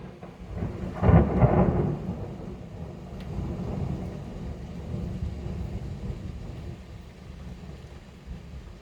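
A deep rumble of thunder from a strong storm in Alsace, striking 2-3 km away, rolls in close and fades slowly, with heavy rain hissing steadily in the background.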